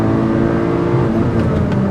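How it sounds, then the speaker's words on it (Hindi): A 2020 Honda City petrol engine on a manual ZX revs hard toward its 7000 RPM redline, a loud, steady, high-pitched drone heard from inside the car with no talking. "Engine revs all the way till 7000 RPM. That just sounds glorious while doing that."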